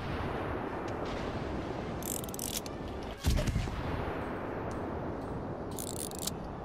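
Naval artillery fire in World of Warships Legends on PS4, a constant heavy rumble with bright cracking bursts and one loud boom near the middle, ongoing and close.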